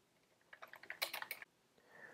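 Typing on a computer keyboard: a quick run of light, close key clicks for about a second, loudest in the middle, then a quiet pause.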